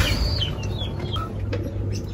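African lovebirds in a breeding aviary give short, high chirps and calls, several overlapping over a low background hum, moderately close but not loud.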